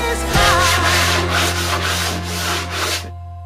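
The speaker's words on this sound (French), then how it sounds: "en faisant des petits coups de scie comme ça va tout seul" A utility knife blade drawn back and forth in quick, rasping sawing strokes through material, scratchy and close, stopping abruptly after about three seconds.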